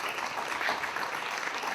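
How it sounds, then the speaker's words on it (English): A steady round of applause from a crowd at an outdoor Greek Independence Day flag raising, dense clapping at an even level throughout. "That deserves a round of applause."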